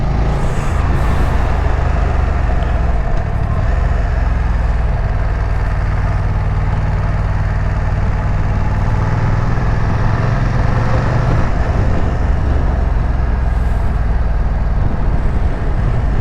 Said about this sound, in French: ce qui est désagréable, c'est qu'il y a des voitures là.